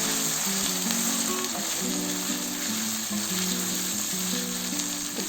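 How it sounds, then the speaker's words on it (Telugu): Chicken sizzles in a pan with yellow and green capsicum and dry chillies, a steady loud crackling fry running throughout without voices, over a low sustained tonal hum. "ఒక 2 minutes ఫ్రై చేసుకున్నాము."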